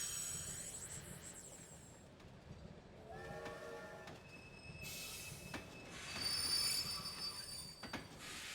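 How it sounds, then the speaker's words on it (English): Steam train in Kingdom Hearts 2, with metallic wheel squeal and high whistle-like tones rising over a steady rumbling chug and hiss of steam, fairly loud throughout with a brighter burst near the end. "I like how the train made the choo-choo noise, the steam noise"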